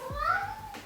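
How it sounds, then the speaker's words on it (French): A pet cat lets out a single short meow, close and fairly clear, with faint household background. "Ça, c'était mon chat."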